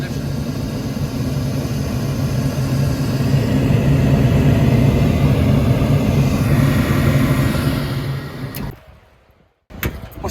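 A gas furnace burner roars steadily after ignition, a dense close-up broadband rush that keeps going for several seconds before suddenly dropping out, followed by a brief sharp knock and the noise resuming.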